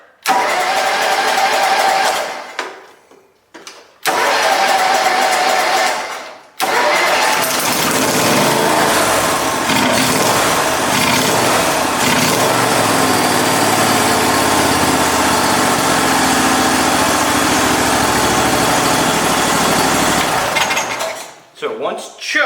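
A Cub Cadet Super 2082 lawn mower engine on choke cranks briefly twice, then catches and runs loud and steady close by for most of the stretch before cutting off near the end.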